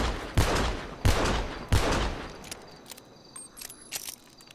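A weapon fires three loud, evenly spaced shots in GTA Online, each with a booming tail, followed by quieter scattered clicks and game effects as the echo fades.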